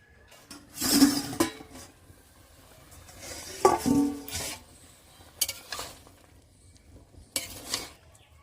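Metal pots and utensils clank and clatter up close in a few separate bursts, including a lid set over a pot of ash gourd being boiled for morabba, with quiet pauses in between.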